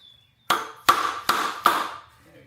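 A hammer strikes a part of a 28.9-foot telescoping A-frame ladder four times in an even rhythm, each sharp, close knock ringing briefly before the next.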